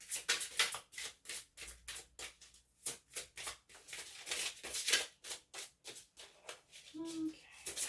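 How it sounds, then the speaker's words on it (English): Tarot cards shuffled by hand in a steady, rapid riffling rhythm of crisp bursts, close and clear with short pauses, continuing for several seconds with no talking. "Sometimes this takes a while, the shuffling."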